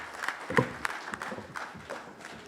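An audience applauds the President, Samia Suluhu Hassan, at a business forum, a scattered, moderately faint patter of hand claps with uneven bursts.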